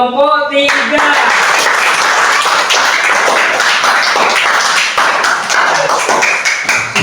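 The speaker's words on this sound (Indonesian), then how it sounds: "Tepuk tangan untuk kelompok 3." A classroom applauds a presenting student group, a loud dense wash of many hands clapping and tapping that starts abruptly after a brief tone and carries on throughout.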